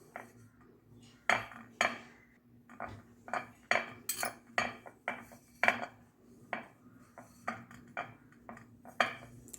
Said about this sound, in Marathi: एका भांड्याला मी तूप लावून घेते तुम्ही कुठलंही भांडं घेऊ शकता स्टीलची प्लेट असेल तर ती पण घेऊ शकता